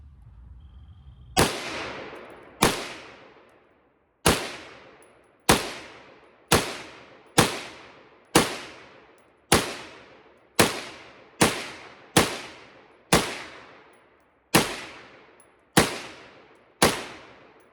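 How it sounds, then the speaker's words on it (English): An Inland M1 Carbine fires fifteen rounds of .30 carbine in a fairly even, unhurried rhythm. Each loud, sharp crack is followed by a short ringing decay, with brief quiet gaps between shots. "I'm going to shoot 15 of them. And they go a little something like this."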